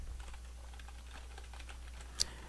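Soft, rapid keystrokes tap on a computer keyboard as a password is typed into a login form, quiet and close, with one sharper click near the end.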